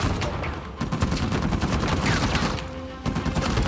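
Rapid gunfire from the video game Uncharted 4, a dense, continuous stream of loud shots and bursts with a brief lull near the end, with no talking.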